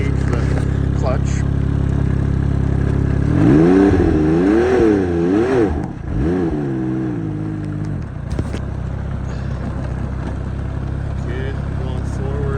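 A 2020 Ski-Doo 900 Ace Turbo snowmobile with a clutch and reverse fault: the engine idles steadily, then its pitch rises and wavers as the clutch engages before settling back to idle, loud and close, followed by a few clunks.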